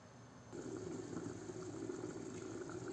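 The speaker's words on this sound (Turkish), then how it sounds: "bakın nasıl da kaynıyor" A pot of beef stew bubbling steadily at a boil, a dense continuous burble of simmering liquid that grows fuller after the first half second.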